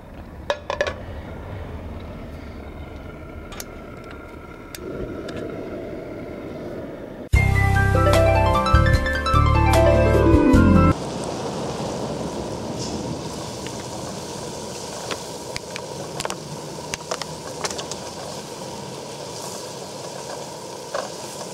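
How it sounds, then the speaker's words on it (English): Bacon cooks in a saute pan on a stovetop burner with a soft, steady sizzle and scattered pops, preceded by a short, much louder tonal burst. "we are going to cook up some bacon and some onions"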